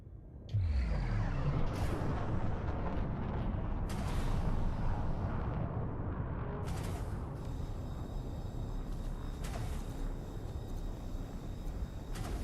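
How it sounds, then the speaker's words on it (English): Rockets fired in a space video game burst repeatedly, loud booming blasts and crackling rumbles layered densely over a continuous roaring bed, with sharp bright impacts near the end. "I'm just gonna keep shooting rockets at you."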